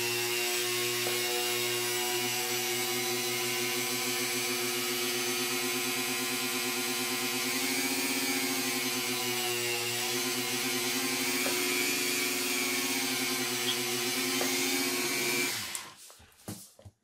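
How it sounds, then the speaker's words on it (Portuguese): A handheld rotary tool drills into a resin pen, giving a steady high-pitched motor whine with layered harmonics that holds for about fifteen seconds before cutting off abruptly. "Vou ligar aqui a minha retífica."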